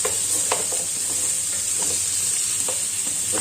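Beef browning in butter in a pan for a bourguignon, continuous bright sizzle with frequent stirring clinks and scrapes, heard alone.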